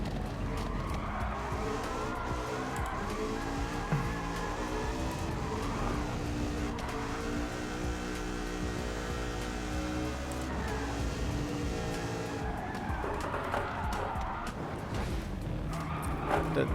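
Toyota Land Cruiser with a swapped, fully detuned engine in the racing game Gran Turismo 7, its engine droning loudly and continuously as it brakes and downshifts into a turn, with the pitch stepping and some tire noise.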